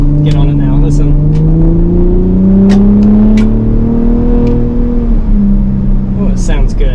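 2021 Ford Performance F-150 Raptor truck accelerating, its engine note climbing and droning loudly from inside the cab with a raw, rising tone, while a voice speaks over it.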